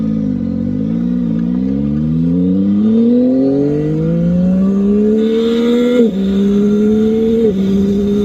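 Yamaha R9 motorcycle engine revving hard at full throttle in race mode, loud and close, pitch climbing steadily through the gears with two brief dips at shifts, no talk over it.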